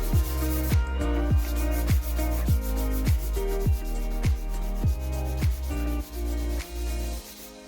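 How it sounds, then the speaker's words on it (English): Steady abrasive rubbing of filler on a Suzuki RG125 petrol tank, sanding strokes repeating in an even back-and-forth rhythm, close and fairly loud with no talking. "This is once I'd rubbed it down again."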